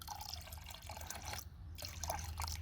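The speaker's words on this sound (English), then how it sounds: "I'm going to pour about half of this in here." Rust remover liquid pouring into a container, a close, steady gurgling trickle with splashy drips that briefly pauses midway, no speech.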